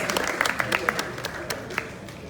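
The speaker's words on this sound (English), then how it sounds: "Encourage them with a good warm round of applause." A crowd at a MultiChoice content marketing event at the AMVCA in Nigeria gives a round of applause, scattered claps rising out of a murmuring room for a couple of seconds.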